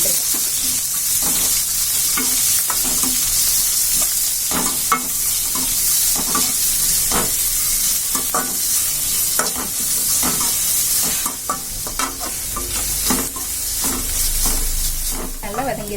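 About two cups of chopped onions sauté in hot oil for a mutton liver fry. Dense close sizzling is broken by repeated scraping stirs and occasional clanks against the pan, with no talking.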